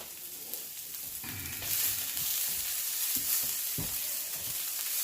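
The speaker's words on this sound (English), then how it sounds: "Just stir that garlic around in there for a minute" Chopped garlic sizzles and crackles steadily in a pan over low heat while being stirred, a close, continuous fry with a few soft scrapes and no talking.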